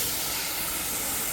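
Chicken pieces hitting hot masala in a pan give a steady, loud sizzle and steamy hiss that runs evenly throughout, with no voices.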